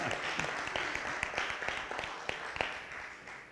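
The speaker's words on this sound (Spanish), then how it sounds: "Denle un aplauso a Jesús." An audience at a Spanish-language religious sermon claps, a moderate, lively patter of hands with scattered sharper claps, steady throughout.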